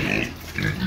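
Pigs in a backyard piggery at feeding time, loud close grunting and squealing from several animals, overlapping with no pause and no talk.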